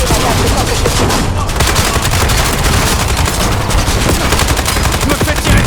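Loud, dense bursts of automatic gunfire rattle almost without pause in a war action film battle scene, with heavy booms layered into the barrage.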